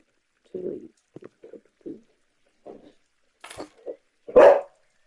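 A puppy gives a run of short, scattered yips and barks, close and fairly loud, ending in one sharper, louder bark, with no talk over it.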